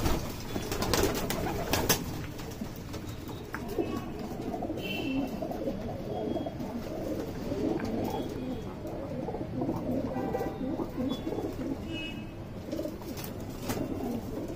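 A group of Madrasi pigeons gives soft, repeated throaty coos close up, overlapping in a steady murmur, with a few sharp clatters and wing movements early on and faint chirps in the background.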